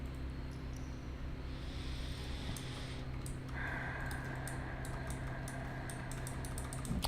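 Computer keyboard typing clatters steadily in the background during a Minecraft building session, a fast run of light clicks over a constant hum, moderately faint and continuous throughout.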